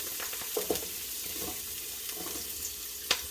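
Onion, garlic and shadow benny fry in hot oil with a soft, close sizzle broken by scattered crackles, light stirring clinks and one sharper pop near the end, fairly quiet, with no talking.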